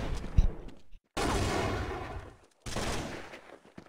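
Rapid gunfire bursts from Counter-Strike on the de_train map during a Na`Vi vs WinFakt ESWC 2011 match, loud and dense in two long volleys separated by short silences.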